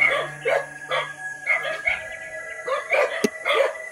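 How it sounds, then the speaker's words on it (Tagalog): An agitated dog barks repeatedly near coconut trees, a steady run of about seven sharp, evenly spaced barks at close range, with a faint hum underneath. "sobrang ingay yung aso"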